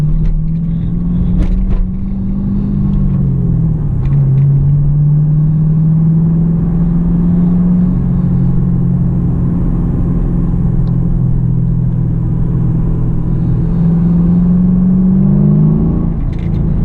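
A 2015 Camaro SS 1LE with new tires rolling on the throttle in second gear: a loud, close, steady V8 drone that rises and dips slightly in pitch, with a brief swell near the end, no talk.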